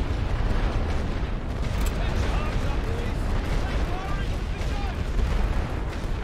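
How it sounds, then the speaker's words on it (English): Suppressing gunfire and artillery pound the trenches in the video game The Great War: Western Front, a dense, steady wall of distant rumbling booms and shots with a voice speaking over it. "Let's get some fire going in between those trenches"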